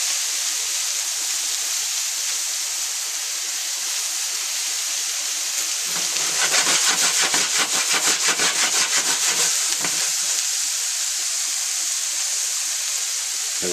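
Mushrooms and onions sautéing in a pan, lightly salted: a steady close hiss of frying throughout, swelling into louder, busier crackling and scraping for a few seconds in the middle before settling back to a soft sizzle.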